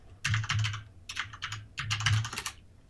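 Fingers typing on a computer keyboard in quick bursts of clattering keystrokes separated by short pauses, close and clear, with no talking over it.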